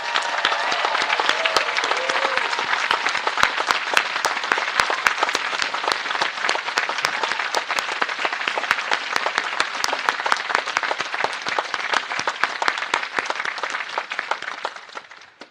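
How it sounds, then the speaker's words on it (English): A large audience at a Williams College commencement ceremony claps steadily in sustained, even applause, a dense wash of many hands that holds for the whole stretch before tapering slightly at the end. "please give a rousing round of applause now"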